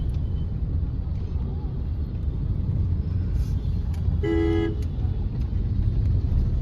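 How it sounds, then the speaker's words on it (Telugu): Heavy street traffic in Khammam rumbles loudly and continuously, with engines droning nearby and a single short car horn toot cutting through partway. "ఫుల్ ట్రాఫిక్ ఉంది ఈ టైంలో"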